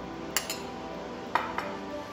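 A spoon clinks against a dish as a mayonnaise and cabbage mix is scooped onto bread: four sharp metallic taps in two quick pairs over a steady low background hum.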